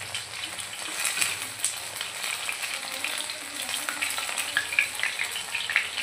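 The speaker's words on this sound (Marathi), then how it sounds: "हळूहळू एक एक फिश करून आपल्याला उलटे करायचे, दुसऱ्या साईडला त्याला परतून घ्यायचे" Katla fish pieces frying in oil in a pan, a steady crackling sizzle with small pops and occasional light scrapes as pieces are turned, moderately loud and close, no speech.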